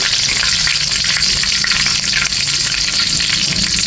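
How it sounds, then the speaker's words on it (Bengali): Whole spices with bay leaf, dried red chillies, cinnamon, cumin, cardamom and cloves frying in hot oil in a kadai; a loud, dense, continuous sizzle and crackle, close and constant with faint stirring. "এখন আমি এখানে একটু ফোড়নটা ভেজে নিচ্ছি।"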